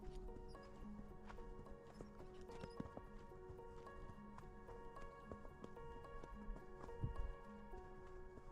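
Horse hooves clip-clopping along a road during a leisurely ride, a steady, fairly quiet walking rhythm of distinct hoof strikes over a low background hum, with one louder thump near the end.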